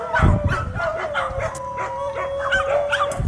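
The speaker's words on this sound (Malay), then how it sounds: "Jadi nak bunyi-bunyi anjing." Several dogs bark, yip and whine close by, overlapping in an excited chorus with a steady tone running underneath.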